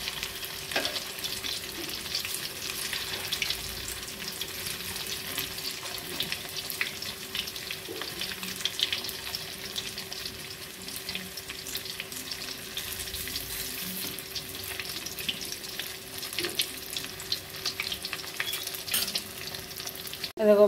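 Pieces of banana flower dhoka frying in hot oil, a steady close sizzle and crackle that carries on evenly throughout with occasional light stirring and no talking.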